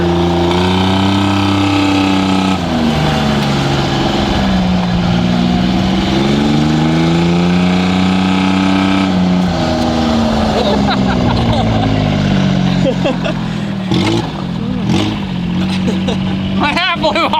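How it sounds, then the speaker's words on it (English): A John Deere three-cylinder diesel golf cart drives along loud and close. Its engine note rises and falls in a low rumble as it speeds up and slows, with wind buffeting and a voice talking over it. "It's a John Deere diesel, 3-cylinder diesel golf cart."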